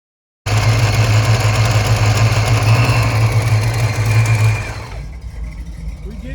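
A big supercharged stroker engine with a cam and nitrous idles loudly and steadily with a deep lumpy rumble, then drops off abruptly near the end, leaving a quieter hum.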